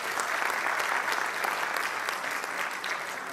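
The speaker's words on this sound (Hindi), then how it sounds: "आपकी तालियां हमें बताएं" An audience at an awards ceremony applauds steadily and densely, a continuous wash of many hands clapping throughout with no break.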